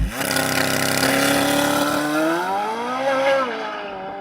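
A Corvette Z06 with its naturally aspirated V8 launches hard, the engine roaring loud and close as the revs climb steadily, then shifts briefly and pulls on.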